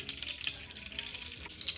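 Oil and a tablespoon of unsalted butter sizzle faintly in a pan for Mexican-style brown rice, a soft, steady crackle and spit with no voices.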